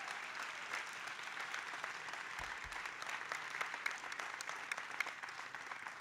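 Applause from an audience at a Los Angeles TV and theatrical contracts informational meeting, a faint, distant patter of many hands clapping steadily with occasional sharper claps rising above it.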